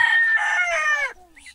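A rooster gives one close, loud crow that lasts about a second and ends in a falling note, followed by a faint second bird call.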